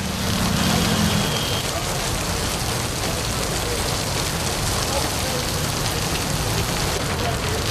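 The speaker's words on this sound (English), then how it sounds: "The march restarted around midsummer, right in the middle of the monsoon rains." Heavy monsoon rain pours down in a dense, continuous hiss of drops hitting surfaces, steady and loud from start to finish.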